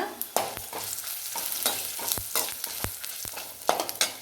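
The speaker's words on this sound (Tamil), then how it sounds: "இப்போ மறுபடியும் கொஞ்சமாக எண்ணெய் விட்டுக்கிறாங்க இப்போ வரமிளகா மல்லி ஜீரகம் மிளகு எல்லாம் போட்டிருக்காங்க" Dried red chillies, coriander seeds, cumin and black pepper fry in a little oil for perandai thuvayal, a steady crackling sizzle broken by repeated sharp scrapes and knocks of a spoon stirring the pan, close and fairly loud, with no talking.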